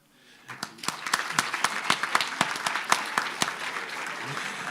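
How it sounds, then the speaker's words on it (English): At a medical faculty public lecture, an audience starts clapping after a brief hush and builds into steady, fairly close applause with distinct individual sharp claps throughout. "I wish you can just clap hands"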